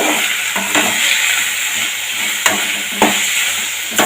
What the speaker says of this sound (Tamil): இந்த எண்ணெயில் இதை நல்லா வதக்கணும்.